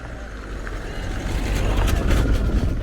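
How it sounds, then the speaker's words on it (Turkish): A car rolls slowly along a rough, dusty dirt road near Matka Canyon, its steady low engine rumble and rattling growing somewhat louder toward the end, with no talk over it. "Arabadan gelen sesleri duyuyorsunuz zaten."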